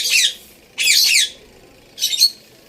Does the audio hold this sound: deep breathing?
no